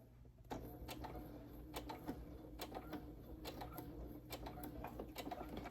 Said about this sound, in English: I'm sewing about 1/4 inch away from the edge